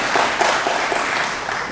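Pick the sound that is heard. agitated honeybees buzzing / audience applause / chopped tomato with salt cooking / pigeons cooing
audience applause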